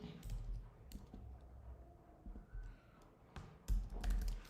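Someone types on a computer keyboard during a live coding session, with irregular clicks and bursts of keystrokes that are fairly close and clear, and a couple of louder taps near the end.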